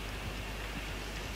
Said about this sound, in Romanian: A început și ploaia.